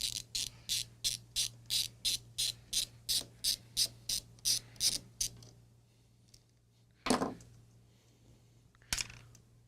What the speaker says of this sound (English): Just let me use my wrench to remove a capacitor.